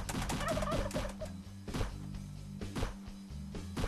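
A turkey gobbles loudly in the Ludum Dare 34 video game Stricken Chicken, where a turkey carries an AK47; repeated rapid gobbling calls come in bursts over game sounds, with no talking.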